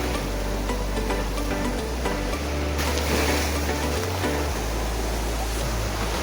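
Sea waves rolling in at a Mumbai sunset point, a loud, steady broadband wash of surf with a few swelling surges and no voices.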